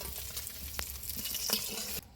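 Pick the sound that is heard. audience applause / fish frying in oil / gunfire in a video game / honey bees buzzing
fish frying in oil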